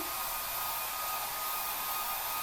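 A hair dryer blows steadily and close, drying wig adhesive, a constant broadband whoosh with a faint motor whine and no pauses.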